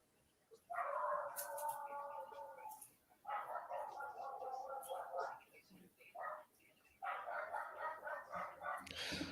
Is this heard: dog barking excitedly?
yes